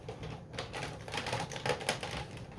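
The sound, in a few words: cut and emboss machine embossing a card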